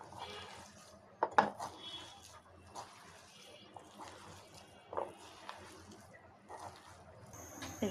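Chopped jute leaves mashed by hand into a fritter mixture in a bowl, a quiet, close, irregular squishing and rubbing with a few sharp knocks against the bowl and occasional wet pats, no talk.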